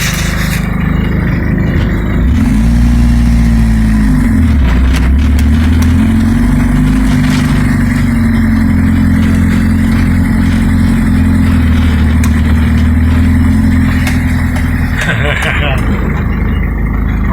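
A 1988 Toyota Hiace van's engine runs steadily and loudly throughout a first drive, a low drone with shifting pitch as it moves, with voices talking over it.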